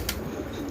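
Pigeons in a rooftop loft give a brief, soft coo at moderate distance, with a low murmur behind it.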